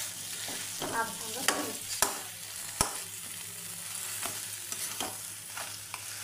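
A fish-head muri ghonto, a Bengali dish, being stirred with spices in a pan: repeated scraping strokes over a steady sizzle and frying crackle, close and fairly loud, with a brief spoken line.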